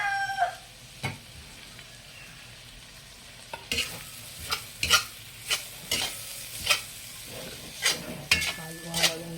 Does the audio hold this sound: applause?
no